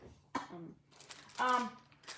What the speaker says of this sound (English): I have to cough, sorry.